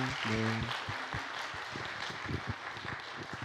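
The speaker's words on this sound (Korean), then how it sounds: "우리 박수로 격려하겠습니다." A church congregation applauds after a shared meal. A short spoken phrase opens, then scattered clapping from the gathered crowd builds into a moderate, steady round.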